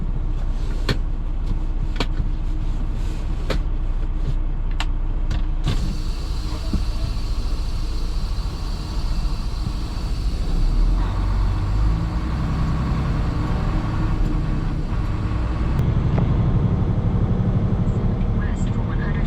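A truck cruising along a California highway in the US gives a loud, constant low engine and road rumble that runs the whole time beneath ongoing talk.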